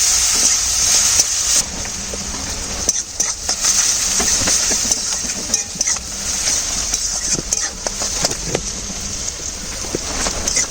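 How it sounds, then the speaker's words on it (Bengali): Chopped onions sizzle in a hot pan for a Bengali fish curry, a steady loud crackling hiss broken by stirring scrapes and clatters close by. "এবার দিয়ে দেব কুচনো পেঁয়াজ, পেঁয়াজটা একটু ভাজা ভাজা হলে তারপর দেবো টমেটো"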